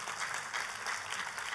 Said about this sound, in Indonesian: kalau mau kasih tepuk tangan, kasih tepuk tangan